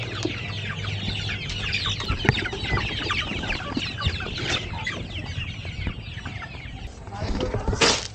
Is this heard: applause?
no